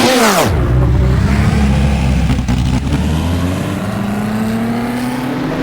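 A 1960s Formula car in the rFactor 2 racing game pulls out of the Crystal Palace pits, its engine barking up through a sharp rising rev before settling into a loud, steady drone that climbs slowly in pitch.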